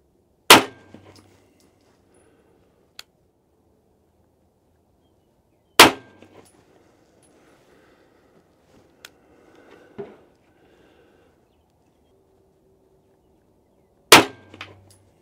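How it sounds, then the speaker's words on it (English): Three sharp, loud handgun shots of Speer Gold Dot G2 147 gr ammunition ring out alone at a range, spaced several seconds apart, with faint clinks and small knocks between them. "Switching to the bullseye on the right, 5 rounds, Gold Dot G2"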